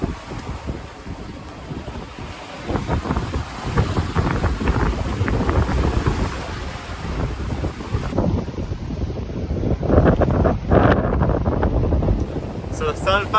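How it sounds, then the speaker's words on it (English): Strong wind roars over the open sea around a sailboat on a solo ocean passage, a loud, steady gusting rush with buffeting against the microphone and waves breaking beneath it, continuous throughout. "Hate to be sailing into this wind."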